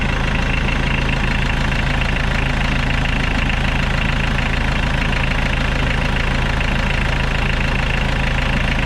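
A 1986 Ford Ranger diesel engine idles steadily, a loud, close, continuous rough clatter with a knocking rumble that holds unchanged throughout, with no talk.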